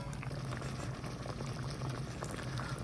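A pot of paksiw na galunggong, fish simmering in vinegar broth with chili, bubbles at a rolling boil, giving a dense continuous gurgling and popping close by, with no voices.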